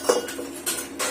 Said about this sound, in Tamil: இப்ப அடுப்ப சிம்ல வச்சுட்டு பிரெட்டை போட்டுக்கலாம்.